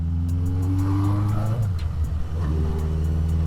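A 1978 Kawasaki Z650 four-cylinder motorcycle engine runs close by, a loud idle rumble blipped briefly higher around the middle before settling back, with no speech.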